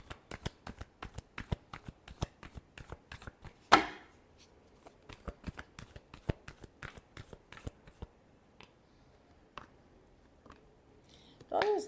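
Tarot cards shuffled in a rapid run of crisp riffling snaps and flutters, close and dry, with a louder burst near the middle and sparser taps toward the end.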